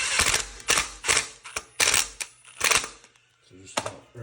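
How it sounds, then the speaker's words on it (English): Impact driver driving four screws into a toilet flange, several short bursts of rapid mechanical hammering separated by pauses, loud and close, ending with softer handling clicks. "when you're putting these screws in is you don't like fully send it with the impact"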